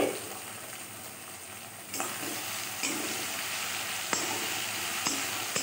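Tomatoes softening in a pan with the lid just lifted, giving a steady, fairly quiet sizzle, with a sharper clatter around the lifting and a few light knocks afterward.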